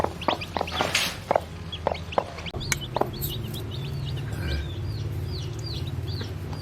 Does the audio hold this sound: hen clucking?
yes